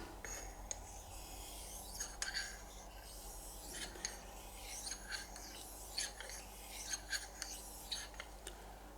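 A steady wet rasping scrape, a straight razor being drawn back and forth over a wet Japanese natural whetstone in repeated strokes, close and quiet.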